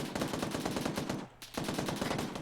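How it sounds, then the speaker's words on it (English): Rapid bursts of suppressive automatic gunfire in a military video game crackle loudly and continuously, pausing briefly in the middle before resuming, with no talking. "Jen, remember that suppressive fire means not just fire on enemies you can see."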